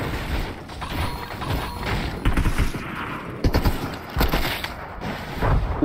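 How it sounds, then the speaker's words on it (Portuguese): Gunfire from the Fortnite video game in a random squad match, with bursts of shots rattling in uneven clusters amid busy game noise, fairly loud and with no talk over it. "Tem atirando aqui, velho."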